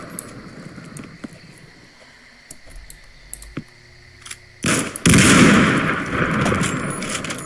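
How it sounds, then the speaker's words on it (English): Pistol gunfire in a shooter video game: scattered sharp single shots and clicks over a quiet stretch, then a loud burst of rapid continuous firing and explosive noise that dominates the end. "Why are they trying to snipe me with pistols?"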